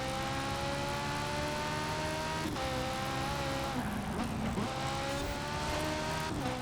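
A racing video game car engine holds a steady, loud tone throughout, with a brief rev dip and scrape midway as the car loses control near a wall.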